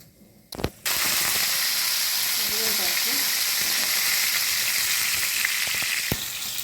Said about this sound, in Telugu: ఇది తాలింపు వేగింది